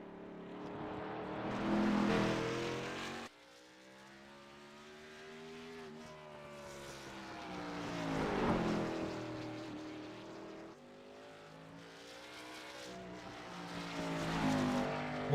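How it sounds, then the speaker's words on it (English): Xfinity stock cars roaring around a Roval road course in a racing game, engine pitch climbing through the gears and dropping at each shift, repeating in three loud, sustained pulls with no talk. "we are doing some Roval racing in the Xfinity cars"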